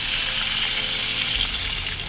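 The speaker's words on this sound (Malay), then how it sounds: "kita masukkan air." Water running steadily into a cooking pot while preparing rice vermicelli soup, a continuous close hiss and splash with a low rumble, no talking.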